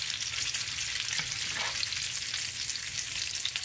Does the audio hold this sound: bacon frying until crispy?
yes